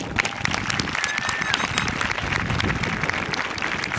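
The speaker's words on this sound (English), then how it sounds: "Let's give them all a round of applause." Graduation ceremony audience applauds in a dense, sustained wash of clapping that fills the hall at an even, loud level throughout.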